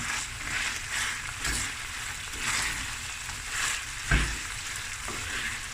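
Onion sizzles and fries steadily in a pan alongside snap peas, a continuous close crackle with small bursts of spatter and a brief clank of a utensil, no voices.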